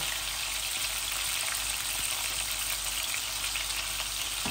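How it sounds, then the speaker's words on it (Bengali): Tilapia fish frying in a frying pan gives a steady, dense sizzle that holds at even loudness throughout, with no voices. "আমি এই ফ্রাই প্যানের মধ্যেই মাছগুলা রেঁধে ফেলবো"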